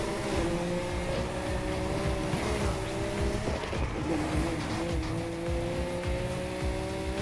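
A Lamborghini Aventador SVJ races in a video game, its twin-turbo engine a loud, continuous roar whose pitch climbs, drops at a shift and rises again, with no talk over it.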